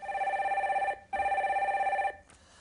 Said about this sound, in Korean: 첫 번째 전화 연결 연결해 주세요.